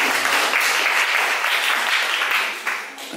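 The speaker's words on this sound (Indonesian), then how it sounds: "Mari kita tepuk tangan sekali lagi untuk pengantin." Wedding guests applaud the bride and groom at a reception, a dense, steady wash of many hands clapping that holds for several seconds before tapering off.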